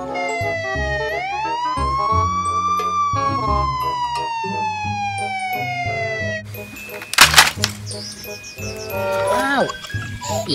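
Toy police patrol car siren wailing in long rising and falling sweeps, loud and close, followed by clacks and tinny electronic effects, with a voice talking over it.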